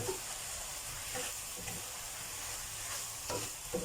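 Pork sausage stir-fried with chili and onion in oyster sauce and green sauce, a continuous moderate sizzle with repeated scraping stirs of a spatula against the pan.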